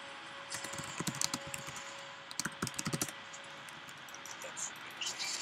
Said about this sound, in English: I really need to type. Quit typing so much.